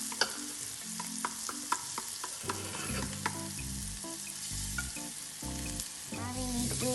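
Chopped onions sizzle steadily in a pan while making upma, with repeated clinks and scrapes of a spoon stirring them, close and fairly quiet.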